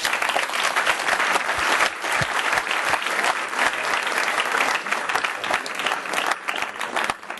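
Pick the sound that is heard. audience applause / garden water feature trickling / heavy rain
audience applause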